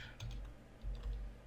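Someone types on a computer keyboard, giving a few soft, quick key clicks in a short burst, faint and close with no talking.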